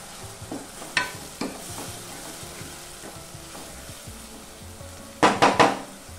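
Two large finely chopped onions drop into hot oil with cumin seeds for a mutton keema dish, giving a steady close sizzle with scattered spoon-and-pan clatter and a burst of sharp metallic scraping near the end.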